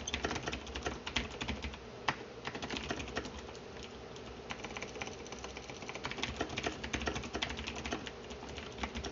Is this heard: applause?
no